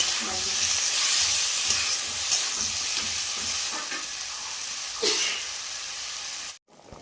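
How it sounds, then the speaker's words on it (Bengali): Boiled potatoes fry with spice paste in a village-style soybean and potato curry, giving a loud, continuous sizzle with steamy hiss and occasional stirring scrapes, then an abrupt cut near the end. "এই আলুটার সঙ্গে কিন্তু মশলাটা ভাজা হয়ে যাবে, আলুটাও ভাজা হয়ে যাবে।"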